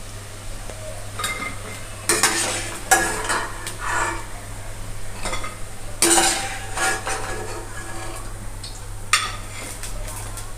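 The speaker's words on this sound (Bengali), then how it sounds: "বাকি বড়াগুলো আমি এইভাবে ভেজে নেব।" Lentil fritters fry in oil over medium heat, a steady low sizzle under repeated clinks and scrapes of a utensil against the pan, with a few louder clatters.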